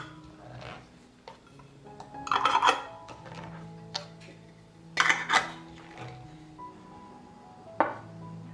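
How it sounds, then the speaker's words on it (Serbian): Clean new lids are put onto glass jars, giving a few distinct clinks and rattles of metal on glass at intervals against a quiet kitchen background, no one speaking. "I tegle zatvaram sa čistim i novim poklopcima."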